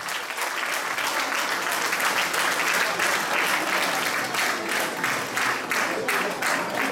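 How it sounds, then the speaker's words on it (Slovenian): An audience at a restaurant gathering claps in a loud, continuous round of applause, with rhythmic pulses as many hands beat together close by. "Dajmo za vse še en aplavz"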